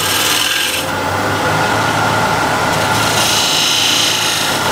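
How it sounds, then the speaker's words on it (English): A small spindle gouge cuts wood turning on a lathe, rounding over the foot of a piece, producing a loud, continuous rough shearing hiss close up with no speech. "So spindle gouge, smaller one."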